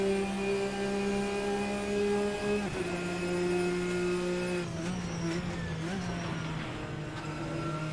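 Sustained engine drone and revving of GT race cars, including a Porsche, in the Assetto Corsa racing game, steady tonal whine shifting pitch with gear changes, fairly close and continuous.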